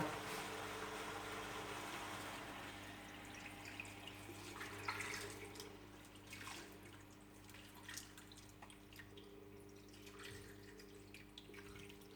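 Plain tap water runs from a faucet into a pot for chicken soup in a home kitchen, a faint steady pouring and trickling that continues throughout without talk.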